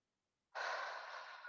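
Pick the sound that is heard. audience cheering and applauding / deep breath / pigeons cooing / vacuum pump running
deep breath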